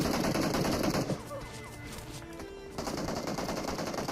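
Rapid automatic gunfire in the mobile battle royale game PUBG Mobile, a dense loud burst that breaks off into quieter game sounds, then resumes as sustained firing near the end.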